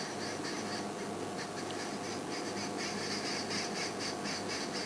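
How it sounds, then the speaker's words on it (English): A dense, continuous chorus of harsh cackling calls from arrow-marked babblers fills the background, loud and busy throughout. "that sort of cackling noise in the back there."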